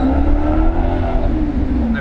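A Maserati GranTurismo's exhaust roars as the engine revs on a Beverly Hills street, a loud, close, sustained engine note with a steady howl that wavers slightly before easing off.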